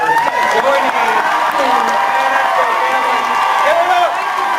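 A convention audience at a Fan Expo Dallas celebrity panel breaks into sustained applause and cheering, a dense wash of clapping with whoops and raised voices rising over it.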